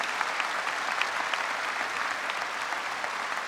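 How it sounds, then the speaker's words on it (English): An audience at a graduation ceremony claps steadily, a dense, even wash of applause from a sizable crowd with no voices standing out. "So can we give her a round of applause at this time?"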